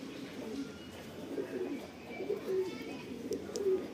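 Soft, low coos of pigeons at a pigeon sale in Latur, India, repeat close by in short bursts, with faint rustling and a quiet voice in the background.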